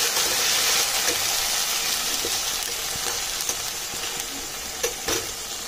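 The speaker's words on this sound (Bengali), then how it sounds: "আদা রসুনের পেস্টটা দেওয়ার পরে আমি খুব ভালোভাবে নেড়ে চেড়ে নেবো পেঁয়াজের সঙ্গে" Ginger-garlic paste stirred into frying onions in a pan gives a steady loud sizzle, with occasional scraping clicks of the spoon against the pan.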